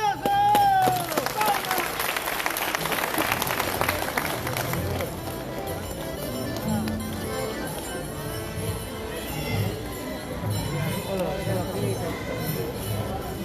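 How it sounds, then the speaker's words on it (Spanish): A crowd at a huayno dance event in Lima claps and cheers in a loud burst that settles into steady, noisy applause with voices mixed in throughout. "¡Aplausos!"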